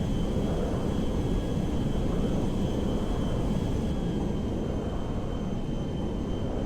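An MD-11 airplane mod flies in GTA 5, producing a steady broadband engine roar with a faint high whine, constant and unbroken throughout.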